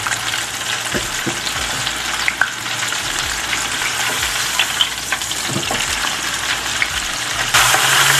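Stuffed tofu fries in a pan with a loud, dense, continuous sizzle and occasional soft stirring clicks, close up with no talking.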